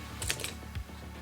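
A few keys are handled and jingle briefly while the contents of a NewAir 840 electronic humidor box are unpacked, producing light, close metallic clicks and taps.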